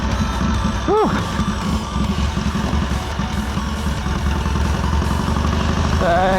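Triumph motorcycle engine running steadily up close while shifting up into second gear, a continuous low rumble with a brief rising whine near the start; a voice speaks over it.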